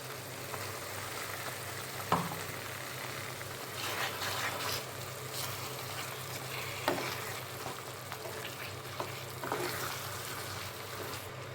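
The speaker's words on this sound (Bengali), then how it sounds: "মশলাটা মেশানোর পরে আমি আরেকটু সময়ের জন্য জাল দিয়ে দিয়েছিলাম" Spiced olive pickle (jolpai achar) cooking in a pan on the stove, a steady low sizzling bubble with occasional clinks and stirring scrapes, fairly quiet and without talk.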